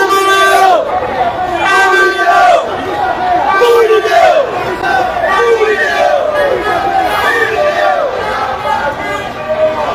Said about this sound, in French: C'est un peu dans la foule, montrer un peu combien de personnes présentes